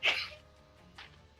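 A single sharp sneeze bursts out at the start, loud and close, then fades into quiet room tone, with a softer breathy sound about a second later.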